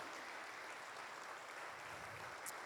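A church congregation applauds steadily, a dense, even wash of many hands clapping at a distance that holds at the same level throughout without a break.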